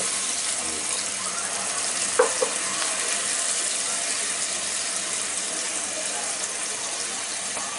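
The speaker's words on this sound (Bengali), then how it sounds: "দিয়ে এটাকে ভুনতেছি আমি" Steady sizzling of chana dal being sautéed in a pan, with a couple of brief clinks of a utensil partway through.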